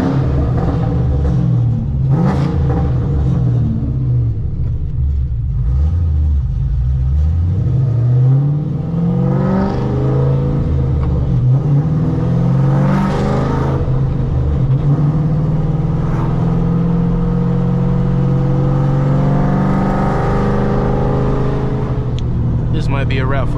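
A cammed 3-valve Ford Mustang GT (S197) is heard from inside the cabin on a drive, its loud, steady engine rumble rising and falling through revs and downshifts with crackling exhaust pops, while a voice talks over it.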